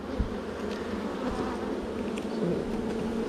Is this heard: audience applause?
no